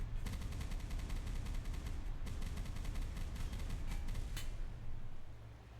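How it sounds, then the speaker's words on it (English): Naval anti-aircraft flak guns in a Boat Crew game hammer away in rapid repeated volleys, a loud dense rattle of automatic fire with a brief pause before resuming, then a heavier boom near the end. "Flak's engaging them."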